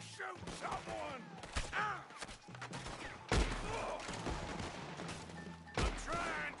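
Gunfire from Red Dead Redemption 2, sharp shots cracking out in bursts amid a firefight, with voices shouting over the shooting.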